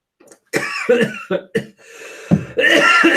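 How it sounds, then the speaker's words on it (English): A person coughs several times in quick, harsh bursts, close and loud, then clears their throat. "Now you've made me cough."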